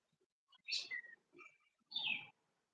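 Birds chirp in three short, bright bursts separated by brief silences, quiet and somewhat distant against an otherwise still background.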